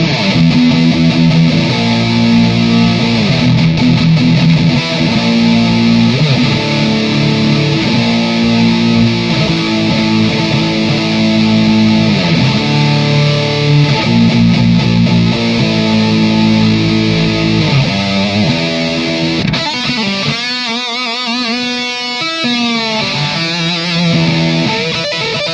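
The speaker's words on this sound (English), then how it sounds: "With the mid scooped, you'll definitely hear a bottom heavy distortion tone." Electric guitar played through a bottom-heavy distortion tone with the mids scooped, a thick sustained riff that runs loud and steady throughout, changing character near the end.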